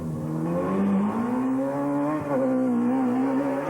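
Ford Puma and Peugeot rally cars racing flat out on a 2001 Formula Rally R1 stage, with a loud, sustained engine drone rising in pitch as they accelerate and no talking.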